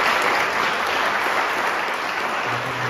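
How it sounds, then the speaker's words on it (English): Audience applause for a zoning discussion panel, a dense, steady wash of clapping that holds at an even level for the full stretch with no speech over it. "Let's give our panelists a round of applause."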